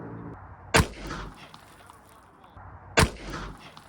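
Two loud, sharp .357 Magnum revolver shots ring out outdoors about two seconds apart, each followed by a short echoing tail, as one shot breaks a bottle target.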